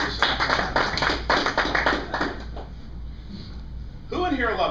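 A small audience at a meeting claps briefly and loosely for a couple of seconds, then the clapping dies away and a voice resumes speaking.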